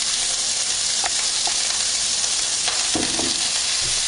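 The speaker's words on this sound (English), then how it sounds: "Now he's going to chuck in all that Italian sausage" Italian sausage dropped into hot oil, a loud continuous hissing sizzle up close with a few soft clatters of stirring.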